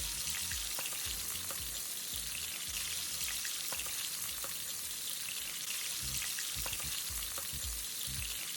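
Ground beef with onions and garlic sizzling in a pan, a steady close frying hiss with small pops and occasional stirring clinks throughout, no talk over it.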